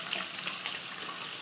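Water is emptied out of a pottery shaving-brush scuttle in one short, close, continuous splashing gush, with no voices.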